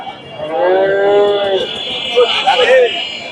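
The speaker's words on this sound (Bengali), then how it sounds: "এই যে শাহিওল গাভী" A Sahiwal cow at a busy cattle market in Bogura lets out a long, loud, close moo, followed by shorter lowing from cattle, with market chatter and voices in the background.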